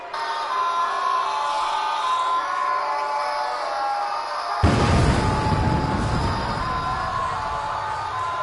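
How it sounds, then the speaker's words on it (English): An arena crowd at a pro wrestling event roars continuously, a dense, distant wash of cheering that swells suddenly into a louder burst midway and stays high to the end. "Did you listen to this crowd?"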